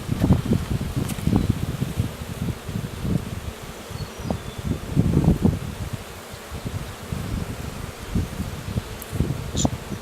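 Honey bees buzz around an open, crowded hive during a May inspection, a steady swarm hum with rising and falling swells of nearby wingbeats and faint rustling throughout.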